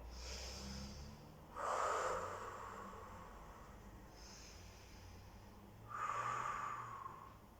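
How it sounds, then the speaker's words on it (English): Two loud, breathy exhales from someone doing a floor exercise routine in a fitness class, each a noisy rush of air lasting about a second, separated by a quieter inhale, heard close up. "nice deep breath in, nice deep breath out."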